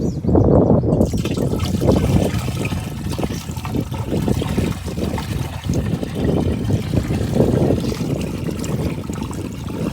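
Water pours and trickles steadily for several seconds, a continuous splashing, gurgling flow with no voices.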